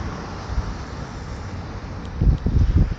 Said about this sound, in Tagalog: Hangin lang.